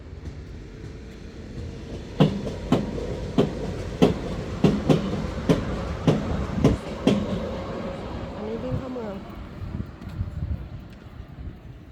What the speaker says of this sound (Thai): ดูรถไฟ